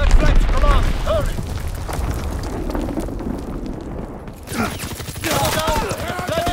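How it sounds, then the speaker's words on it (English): A Fritz X bomb falls and detonates in Call of Duty: WWII online play, heavy booming blasts and rumbling debris mixed with gunfire and battle noise, with voices heard over it. "Dropping Fritz X bomb."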